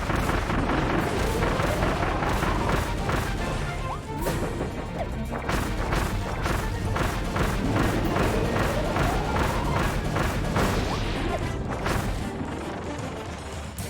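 Wispy Woods, the tree boss in Kirby and the Forgotten Land, drops bombs that burst in a steady barrage of loud crashing thuds and booms, with rising whooshing sweeps between the blasts.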